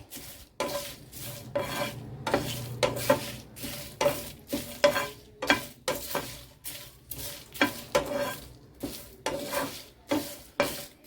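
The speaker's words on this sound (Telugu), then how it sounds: "ఎండుమిర్చి కరివేపాకును ఈ రెండు కూడా చాలా సాఫ్ట్గా ఉంటాయి కాబట్టి కలిపేసి వేపేస్తున్నానండి" Dried red chillies and curry leaves frying in a pan, with a low sizzle under repeated rhythmic scraping strokes of a metal spoon stirring against the pan, close and steady.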